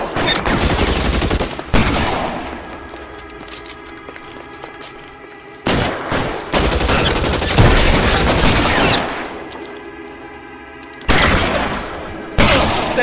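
Gunfire in the video game L.A. Noire: loud bursts of rapid shots in several volleys separated by brief lulls, close and dense, with no voices.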